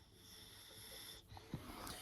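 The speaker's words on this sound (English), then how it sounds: "the snoring bulldog beside me on the couch" A bulldog snoring on a couch at home, a faint wheezy, snorting breath close by, with a louder snort toward the end over low room noise.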